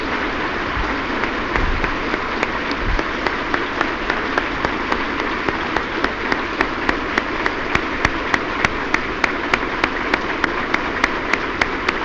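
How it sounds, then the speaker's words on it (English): A large audience applauds after a speech, a sustained wash of clapping that runs throughout, with a few sharper individual claps standing out toward the end. "I'm sure that the size of your applause has indicated"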